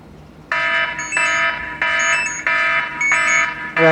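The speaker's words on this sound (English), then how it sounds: "you've got the alarm going off" A loud electronic bike light theft alarm blares nearby in repeated harsh, buzzy bursts with brief gaps between them.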